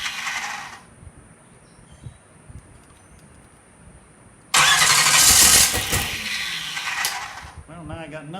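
A motor engine with an ignition fault cranks and tries to start, blowing back through the intake. A short burst comes first, then quiet, then loud, rough cranking for several seconds.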